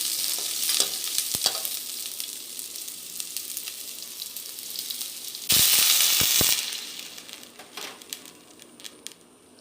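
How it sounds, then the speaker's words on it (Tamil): Loud steady sizzling and bubbling from a pan of drumstick leaves boiling in water, with a burst of harsher hissing midway and occasional clinks of a utensil. "ஒரு டம்ளர் தண்ணி வந்து நம்ம அதில் சேர்த்து கொதிக்க விடணும்"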